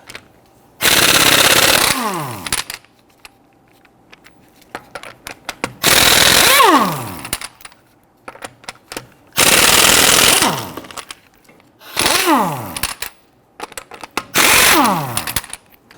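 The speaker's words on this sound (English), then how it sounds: "we're going to use our 19mm socket to loosen and remove our lug nuts" A 19mm socket on a power tool loosens and removes the lug nuts from a front wheel of a raised 2010-2019 Ford Taurus: five loud, rattling bursts of a second or two each, separated by quiet pauses.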